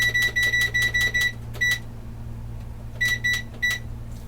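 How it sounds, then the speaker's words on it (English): A kitchen timer is set with a quick run of sharp electronic beeps, then a pause and a few more beeps, close by and clear over quiet room hum. "We're going to set our timer."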